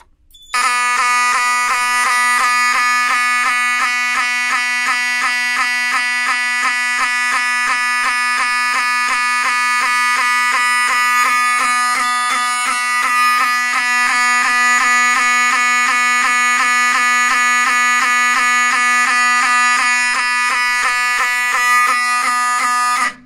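Simplex 4004 fire alarm system with 1990s Wheelock alarms sounding a loud, steady electronic tone, a continuous harmonic-rich buzzing signal that runs unbroken for over twenty seconds, close and alone with no talk.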